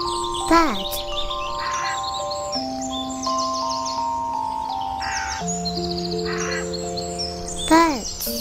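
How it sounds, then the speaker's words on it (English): A crow caws twice, loud and near, once near the start and once near the end, over a bright backdrop of sustained musical tones and soft chirps. "Bird."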